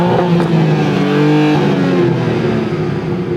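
A BMW M2 engine with no soft limiter revs hard, loud and close, holding a steady high-pitched roar with no pause.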